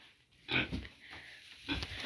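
A couple of short pig grunts and snuffles close by, separated by quiet pauses, in a farm pig pen during evening chores.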